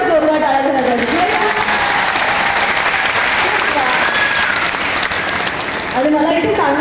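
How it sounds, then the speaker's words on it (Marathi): Loud, sustained applause from a large audience at a public event in Kolhapur honouring work for women, steady clapping throughout with crowd noise and no talk. "एका हात वर करून एका जोरदार टाळ्या झाल्या पाहिजे"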